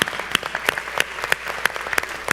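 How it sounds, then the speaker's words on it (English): A town-hall audience applauds its panelists, a crowd clapping in a steady rhythmic beat of sharp, evenly spaced claps over a continuous bed of scattered applause. "One more big round of applause for Nasser, Mac, and Sana."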